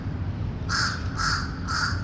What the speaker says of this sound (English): That crow wants to speak about his anger issues with batteries.